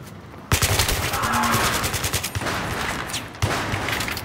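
Rapid bursts of automatic gunfire in Battlefield 3, PC campaign mode, a dense, loud rattle of shots running through the whole stretch, with sharp fresh volleys near the start and again toward the end.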